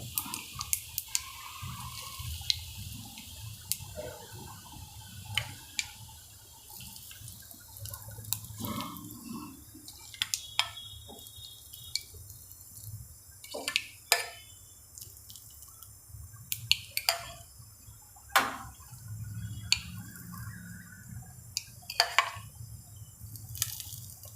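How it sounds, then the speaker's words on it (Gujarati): A spoonful of hot spiced oil tempering with asafoetida is poured over steamed stuffed muthiya, giving scattered crackles and drips over a low background hum, with no talking. "વઘાર બધો એક ચમચો લેવાનો આમ રેડતું જવાનું બધા ઉપર"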